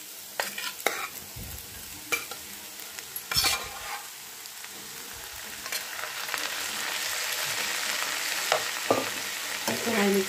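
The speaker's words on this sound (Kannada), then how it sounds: "ಈಗ ನಾವು ಬೇಯಿಸಿಟ್ಕೊಂಡಿರೋಂಥ ಕ್ಯಾಬೇಜ್ ಮತ್ತು ಬೀನ್ಸನ್ನ ಹಾಕ್ಕೊಡೋಣ" Boiled cabbage and beans go into a pan of fried onions, with several clattering knocks and stirs at first, then a soft sizzle that grows steadier and louder.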